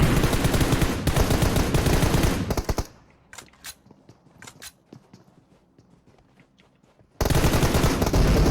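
Gunfire in the mobile game PUBG Mobile comes as loud, dense automatic bursts at the start and end, with sparse, fainter single shots in the quieter middle stretch.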